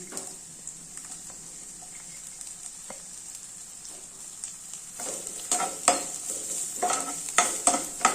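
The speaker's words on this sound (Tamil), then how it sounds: "இப்போ எண்ணெய் காஞ்சதும் இந்த வெங்காயம், பச்சை மிளகாயெல்லாம் போட்டுக்கலாம்" Onions and green chillies hit hot oil: a quiet hiss first, then a rising crackling sizzle with busy stirring scrapes, close and growing louder, with no voices.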